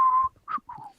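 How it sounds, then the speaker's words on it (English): A person whistles a short tune of a few sustained and gliding notes, separated by brief gaps, close and clear with no talking. "I'm just gonna be like whistling away"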